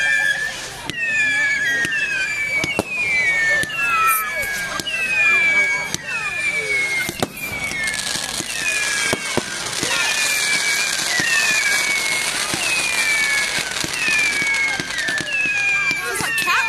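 Fireworks go off on firework night: a run of whistling rockets rises again and again, broken by sharp cracks and crackling bursts, loud and continuous.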